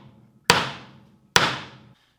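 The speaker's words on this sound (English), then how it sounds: "drives the nail straight down into the wood" Two sharp, loud claw hammer blows driving a nail into wood, about a second apart, each a crisp close impact with a short ringing decay, no talking.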